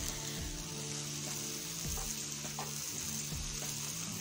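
Chopped onion frying in oil for a restaurant-style Cholistani chicken karahi, a steady close sizzle with irregular stirring scrapes and clatters throughout, no voices.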